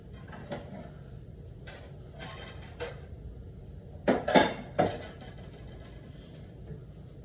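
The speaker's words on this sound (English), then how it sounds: "let me get a bowl" A bowl being taken out in a home kitchen, with scattered ceramic clinks and a cluster of louder clattering dishes near the middle, close by and with no talking.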